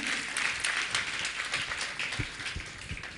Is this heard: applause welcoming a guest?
yes